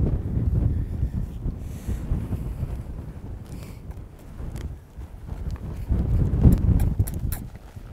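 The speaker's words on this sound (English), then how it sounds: "So here I am at a lope." Horse hooves at a lope in a riding arena, a rhythmic, muffled three-beat drumming under gusty wind noise across the microphone, no talk.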